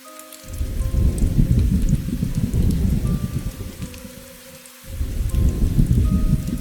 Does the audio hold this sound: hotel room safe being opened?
no